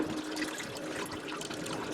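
Coolant pours and drains steadily out of a 2010 Buick Enclave after the water pump is removed, a continuous close splashing trickle of liquid with no talk.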